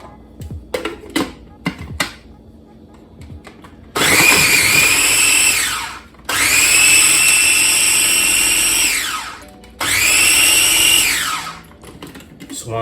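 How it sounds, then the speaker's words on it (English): A food processor whirs loudly in three long bursts, chopping ginger and two cloves of garlic, with rattling and clicks from handling in the opening seconds. "we're going to place it inside of our food processor"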